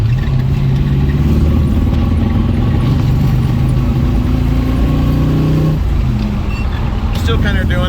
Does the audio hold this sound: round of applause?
no